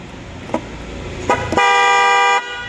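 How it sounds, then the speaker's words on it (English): Newly installed dual car horn sounds one steady loud honk of under a second, close by, after a few faint clicks of wiring being handled. "So now I'll ask someone to blow the horn and check whether the horn blows or not."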